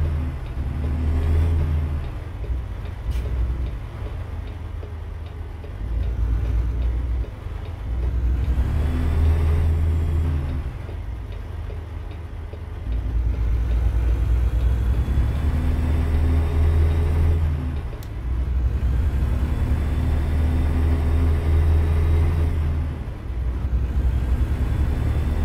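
A truck-simulator drive from Fort Stockton to Odessa, Texas: engine rumble with swelling passes of road traffic, a nearby car's roar rising and fading several times over a steady low drone, with no talking.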